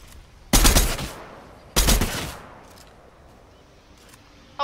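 Gunfire in the video game Fortnite: two loud, sharp bursts of shots about a second apart, each trailing off into a decaying echo, followed by quieter background noise and a faint final pop.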